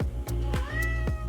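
A wet cat, just in from the rain, meows repeatedly up close in a drawn-out, whiny string of calls with no talking.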